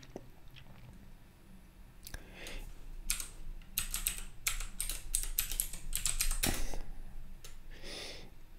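Someone types a password on a computer keyboard in a terminal session: a quiet run of quick, uneven key clicks that grows denser, with a few louder taps, heard close and alone.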